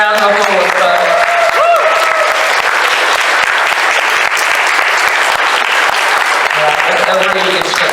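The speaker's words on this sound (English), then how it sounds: "Have a round of applause." Loud, steady applause from a live audience fills several seconds, dense clapping throughout with brief bits of voice at the start and end.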